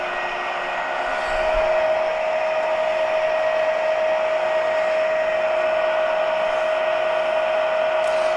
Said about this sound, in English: I'll go ahead and stop the lathe again.